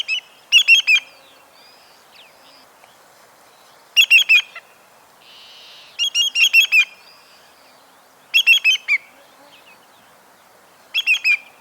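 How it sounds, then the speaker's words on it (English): A Greater Yellowlegs calls in clear, sharp bursts of three to four ringing whistled notes, repeated about five times at regular intervals over a quiet background. "The first recording was a Greater Yellowlegs"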